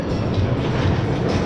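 Train at the Stanleyville station in Busch Gardens amusement park, a dense steady rumble of rolling wheels and carriages, loud and continuous for the whole moment with no voices.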